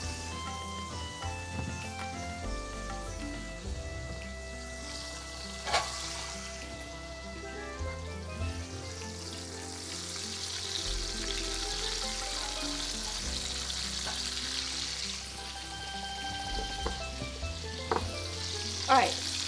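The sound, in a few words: onions frying in a pan until translucent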